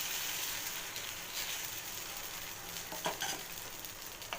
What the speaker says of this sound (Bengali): একই তেলের মধ্যে তেল আছে আর তেল দিতে হবে না এই তেলের মধ্যে আমি আবারও আরেকটা পাটিসাপটা ব্যাটারটা দিয়ে দিলাম